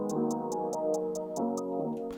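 A trap-style beat with a doubled hi-hat pattern, eight evenly spaced crisp ticks over a sustained synth chord bed, steady and close, no voices.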